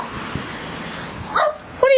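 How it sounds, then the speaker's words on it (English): A dog gives two sharp barks close by, following a stretch of quiet room noise. "What are you barking at?"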